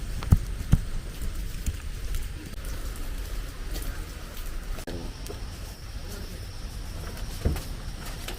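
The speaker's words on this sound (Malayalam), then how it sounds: "മഴ മഴ മഴ മഴ." Steady rain falls outdoors, a dense, even patter of drops at moderate level with a few sharper knocks, continuing throughout with no voices.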